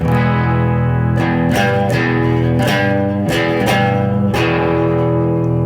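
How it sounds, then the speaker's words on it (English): A loud, distorted electric guitar plays sustained notes with string bends, the pitch sliding several times, with a roughly steady rhythm and no voices. "we'll do it a bit more with the bend"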